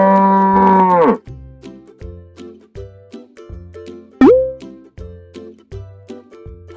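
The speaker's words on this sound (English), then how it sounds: "Cow." Cow gives one long, loud, close moo at the start, then a steady plucky rhythmic backing beat continues alone with a brief vocal blip.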